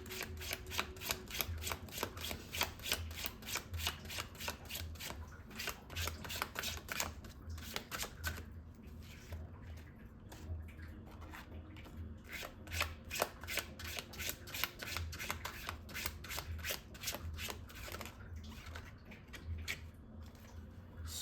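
Tarot cards being shuffled by hand, a fast, crisp run of riffling flicks and taps in quick bursts with short pauses, close and fairly quiet.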